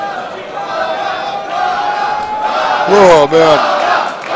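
Tournament crowd at a King of Fighters XIII winners final, loud and continuous, chanting the player name Bala with swelling rhythmic shouts, while an excited commentator talks over it.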